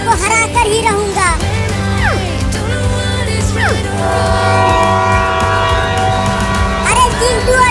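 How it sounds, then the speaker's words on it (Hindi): A cartoon train rumbles past with a loud, sweeping horn blaring over the steady rolling of wagons, a busy and dense mix throughout. "अरे चिंटू और चिंकी, इसी लाइन पर आगे से एक और ट्रेन आ रही है।"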